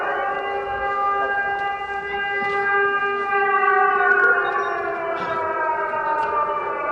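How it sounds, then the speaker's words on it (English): A steady wailing air raid siren in Ukraine drones on throughout, several layered tones slowly rising and falling, loud and continuous with no voices. "Every time the siren is here"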